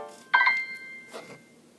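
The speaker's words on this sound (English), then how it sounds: "Sorry, that was my phone." A mobile phone goes off indoors with a short, bright ringtone or text-alert chime, a quick burst of tones followed by a softer second blip, close and clear against a quiet room.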